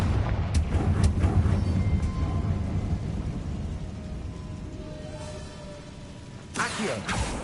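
Fiery Confringo blast spell from Hogwarts Legacy, a deep rumbling boom that rolls and fades over several seconds, with a sharper burst flaring near the end.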